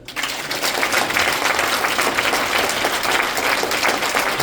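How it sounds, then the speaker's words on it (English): An audience at an information session in a sports complex applauds in a dense, steady burst of clapping that starts abruptly and carries on at an even level for several seconds. "please show me by applauding."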